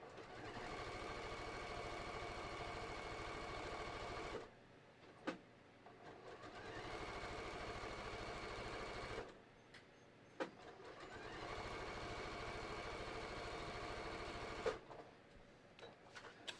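A sewing machine stitches a hiking belt in three long, steady runs of rapid mechanical whirring, separated by short pauses with small clicks and handling noises.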